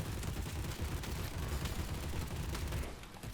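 Rapid gunfire bursts from a machine gun in the video game Hellbreak, dense and continuous over a low rumble, fading slightly at the end.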